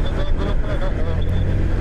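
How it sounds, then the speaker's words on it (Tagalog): Fast cars rushing past on a road at night, a steady roar of traffic close by, with a person talking over the noise. "ang mabibilis ang sasakyan dito"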